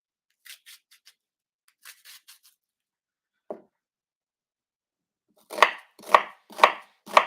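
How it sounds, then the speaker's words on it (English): A knife chops an onion on a board, first in light scattered taps, then after a pause in four loud, evenly spaced heavy cuts close up. "So let's just cut up this onion."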